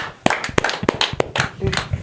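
Hands clapping at a gathering around a traditional healer, sharp separate claps at an uneven pace over low background murmur, fairly close and loud.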